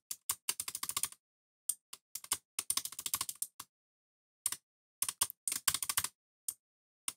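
Crisp keyboard keystrokes in short clustered bursts separated by silent gaps, as a code is typed in, close and clear with no talking.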